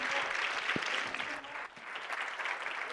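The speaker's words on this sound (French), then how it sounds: "Je vous propose qu'on les applaudisse chaleureusement" A steady, close wash of audience clapping after an evening talk, holding level for the full three seconds with only a brief dip midway.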